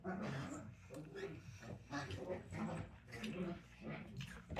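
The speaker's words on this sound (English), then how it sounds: "The dogs." Dogs yip and whimper in short, excited bursts at fairly close range, the barks uneven and mixed with someone talking over them.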